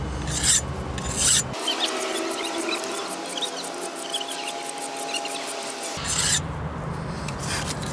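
Hand file rasping rust off a stuck rear brake caliper piston on a 2011 Honda CR-V, close and loud, with rapid rhythmic back-and-forth scraping strokes running continuously.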